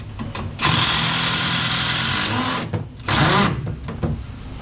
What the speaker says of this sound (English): We're just going to try and wind this up and screw it together.